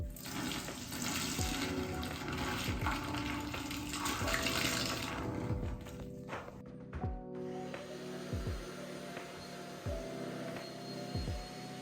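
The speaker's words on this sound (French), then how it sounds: "on va vider le seau dans les toilettes" A bucket of dirty carpet-cleaning water from a restaurant job is poured into a toilet, a steady rushing splash that thins out and gives way to scattered drips and clinks.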